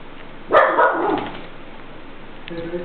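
A small dog gives a single short bark followed by a brief yip moments later, close by and alone, with a quiet room in the background.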